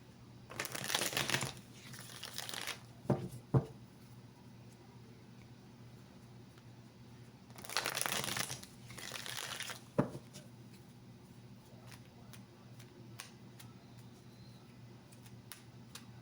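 Tarot cards being shuffled and cleared by hand, two bursts of dry riffling and rustling separated by quiet stretches, with a few sharp taps of cards settling on a surface, close and fairly soft.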